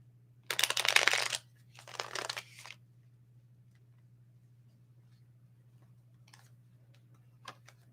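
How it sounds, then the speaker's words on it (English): Tarot cards shuffle in two brisk papery bursts, then a few faint taps over a steady low hum in a quiet room. "shuffle the cards"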